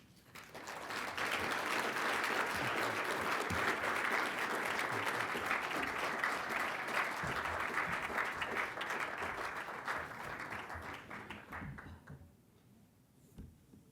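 Applause from a dinner audience honoring award recipients at a financial services dinner, sustained and dense for about eleven seconds before tapering into scattered claps and quiet.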